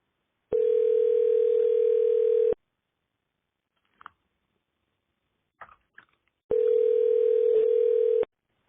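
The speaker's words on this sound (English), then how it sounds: "Okay, it's just dialing." A phone line ringing while a call connects, two long, steady electronic ringback tones separated by a few seconds of near silence with faint small clicks.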